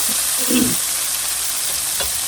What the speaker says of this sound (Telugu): తిప్పుదామండి కొంచెం. ఇంకా వేగాలి అది.